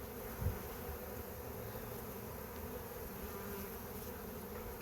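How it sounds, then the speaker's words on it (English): Honey bees forage around an open backyard beehive, a continuous soft, even hum of many insects close by, with no voices. "There's a lot of foragers out from this hive."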